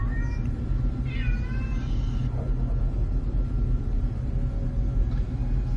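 A house cat meows loudly in a room, two or three drawn-out, rising calls early on under a constant low rumble of background hum, then quieter.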